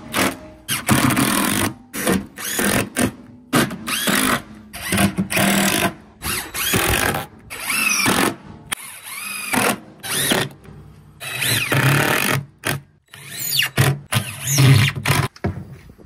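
A power drill drives screws into a wooden 2x4 cornhole board frame, firing in many short, loud, whining bursts with brief gaps between them, close up.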